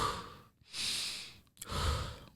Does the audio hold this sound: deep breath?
yes